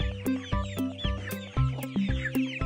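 Cartoon hen clucking in a series of short, clear, repeated clucks at close range, distinct from one another and with no voices.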